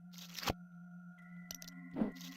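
Enemy sound effect from the video game Zelda's Adventure, a faint synthetic blip sequence with steady electronic tones, short crackly bursts and a sonar-like ping, heard alone and quiet.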